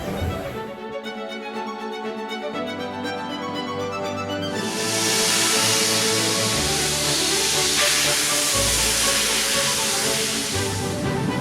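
A steam train hisses steadily, a broad continuous rush of steam that swells louder partway through, with no talk.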